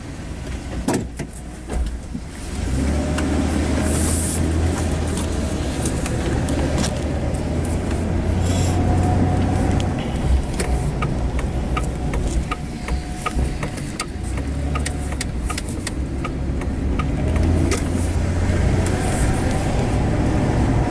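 Interior of a car out for a drive on the road, a steady broadband rumble of engine and tyre noise with a low hum throughout, joined by faint rattles and a few small clicks, no talking.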